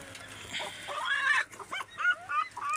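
A sick, distressed rooster gives several strained, frightened squawking calls in short uneven bursts after being given medicine, close by, with no talking.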